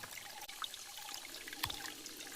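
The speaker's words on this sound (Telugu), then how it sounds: "రాయి లోపల ఇది వాటర్ వస్తుందండి" Water trickles out from under a rock in a forest, a faint, steady dribbling with soft gurgles in an otherwise quiet setting.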